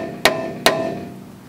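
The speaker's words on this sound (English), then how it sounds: "Put one hammer against the screw" Two sharp metallic hammer strikes on a brake rotor screw, one hammer held against the screw and hit by another, ringing briefly after each blow, close and alone.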